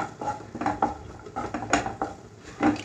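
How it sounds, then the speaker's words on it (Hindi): Chopped onions are stirred while sautéing in melted butter in a pan, giving quick, close metallic clinks and scrapes of a spoon against the pan in an irregular rhythm, with no talking. "अनियंस मैंने ऐड कर दिए हैं, इनको थोड़ा सा सौते करेंगे"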